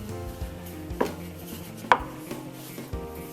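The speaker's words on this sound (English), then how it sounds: "You just get a rolling pin and flatten it a little bit" A rolling pin flattens dough for homemade Valentine's Day treats, giving a few soft thumps roughly a second apart over steady background music.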